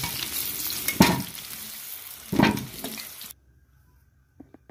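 Potatoes with a pinch of turmeric and salt frying in hot oil, a steady close sizzle with two louder stirring scrapes before it cuts to near silence and a few faint clicks.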